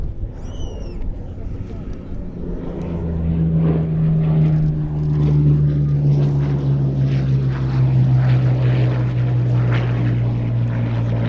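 A Hawker Hurricane propeller aircraft drones overhead at an airshow, its engine swelling louder and steady as it passes, with a faint high tone at the start.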